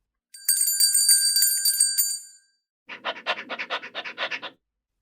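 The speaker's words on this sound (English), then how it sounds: "by ringing a bell." A bicycle bell rings with a sustained bright metallic tone for about two seconds, then a quick series of rapid scratchy rattling strikes follows after a short pause, close and alone.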